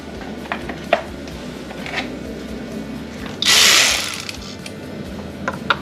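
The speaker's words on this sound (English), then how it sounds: "Let's put the socket here." A socket ratchet clicks in short bursts while removing clips on a Ford Fusion, with metallic taps and handling noises, and one longer hissing whir midway through a quiet garage.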